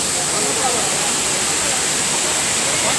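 Mandasaru waterfall at Daringbadi crashing down in a steady, dense roar of falling water, loud and unbroken throughout, with faint voices nearby.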